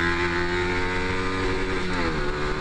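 A motorcycle runs at full throttle on a race circuit, its engine a loud, steady high-revving drone with dense layered tones that hold close throughout, shifting slightly in pitch near the end.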